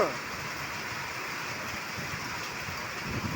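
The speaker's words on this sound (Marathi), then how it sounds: "जवळजवळ सगळीकडेच हा मृग नक्षत्राचा पाऊस पडत आहे" Early monsoon rain of the Mrig nakshatra season falls steadily over farmland, an even, continuous hiss that stays constant throughout with no pauses.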